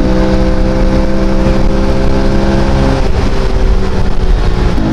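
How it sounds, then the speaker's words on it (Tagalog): A 130cc motorcycle cruising on Marcos Highway: a loud, close, steady engine drone with a low hum and constant wind rush, holding a nearly even pitch with a slight shift midway. "Parang bibigay yung motor ko."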